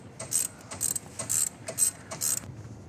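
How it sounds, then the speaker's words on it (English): A ratchet wrench loosens a bolt on a car in five or six short bursts of rapid metallic clicking, close and clear with brief pauses between strokes. "Ratchet that sucker."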